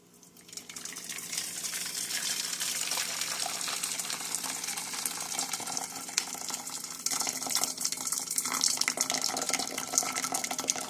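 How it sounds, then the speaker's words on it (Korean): Hot water pours steadily from a kettle in a continuous gushing stream after a brief quiet start, close and fairly loud, with no voices. "물을 부을게요. 주전자, 주전자는 뜨거워요."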